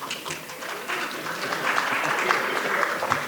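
Audience applause breaks out as panelists are introduced at a public forum on healthy communities and democracy, a steady broadband patter of clapping that builds slightly over a few seconds with faint voices mixed in.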